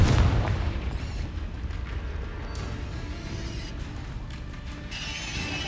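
Confringo fire spell cast in the Hogwarts Legacy video game: a loud burst at the start followed by crackling, whooshing magical effects and mechanical rattling that linger for several seconds, with brighter sparkling bursts near the end.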